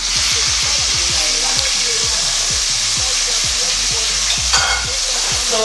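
Fish frying in a pan gives a loud, continuous hiss and sizzle close up, with a rapid train of low pops and bubbling crackles running beneath it; nobody talks.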